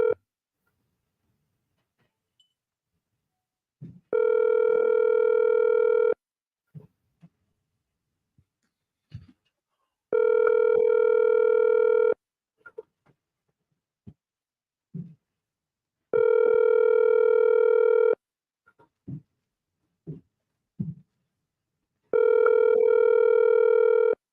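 A phone ringback tone on an outgoing call repeats four times, each steady burr lasting about two seconds with long pauses between, clear and fairly close with faint clicks in the gaps.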